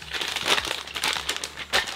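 Plastic bags being unpacked crinkle and rustle close by in quick, irregular bursts, with no talking.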